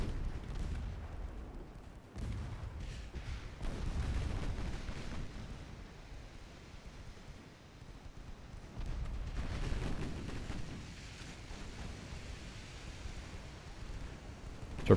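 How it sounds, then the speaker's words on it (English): Deep, muffled booms from a torpedo detonation in a naval strategy game, with several low explosive rumbles rising and fading in a quiet, distant-sounding battle ambience. "Torpedo detonation, that's nice."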